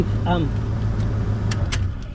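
Car engine idling just after starting, a low steady hum with a voice briefly talking at the start and a couple of faint clicks later.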